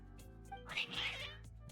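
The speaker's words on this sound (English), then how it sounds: "Your cats seem pretty worked up." Cats meow in the video game Genshin Impact, a short agitated mewing cry rising over soft game music and ambience.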